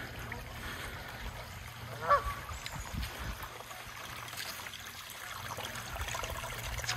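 A single distant goose honk rises briefly over the steady murmur of flowing water outdoors.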